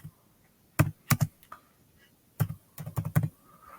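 Keystrokes on a computer keyboard while an admission form is filled in, arriving in two short bursts of several quick clicks separated by a quiet pause.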